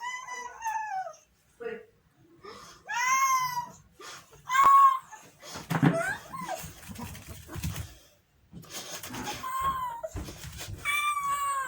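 A pet cat meows repeatedly up close, with several drawn-out, wavering cries and some short chirps, mixed in with a person talking to it in between.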